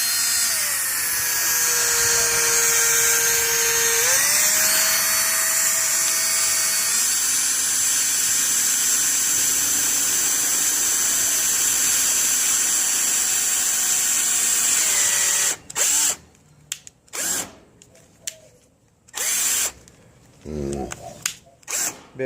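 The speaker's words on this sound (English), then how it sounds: "drill a hole, hopefully without breaking the bit." A power drill bores a hole in the sheet metal of a clothes dryer, whining continuously with shifts in pitch for about fifteen seconds, then stopping and restarting in short bursts.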